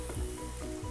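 Green chillies go into a pan of frying pepper chicken, giving a short burst of close, steady sizzling with a soft stir, with no talk.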